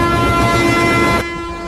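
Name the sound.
train starting to move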